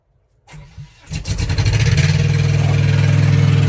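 A Peterbilt semi truck's diesel engine cranks over on a weak 11.8-volt battery, catches, and settles into a loud, rough, steady idle close by, louder than normal from a leak.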